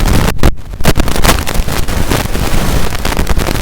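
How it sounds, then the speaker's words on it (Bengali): Motorcycle engine in the mobile racing game Traffic Rider, a steady, loud, rushing engine and wind roar that holds throughout with a brief dip early on and no talk. "বাইকটার স্পিড আছে ভালো, কিন্তু আওয়াজও করছে।"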